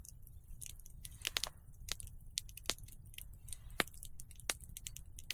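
Someone eating freshly boiled pudding from a cake form at a winter bushcraft camp, with close, quiet chewing and small crunchy bites repeating irregularly over a low outdoor rumble.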